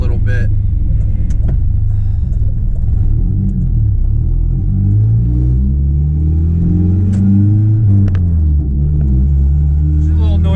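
A 25-year-old project truck driving, its engine rumbling and revving steadily from inside the cab, slightly noisy with rising and falling pitch as it accelerates.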